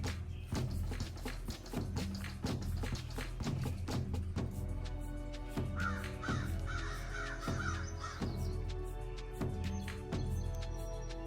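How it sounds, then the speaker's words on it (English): Crows caw repeatedly outdoors in the early morning, with clear, spaced calls ringing out over a quiet background and other birds chirping faintly in the distance. "it's early morning, so you do hear the birds"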